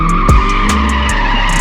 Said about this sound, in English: So I actually kind of want to spin out and see what that feels like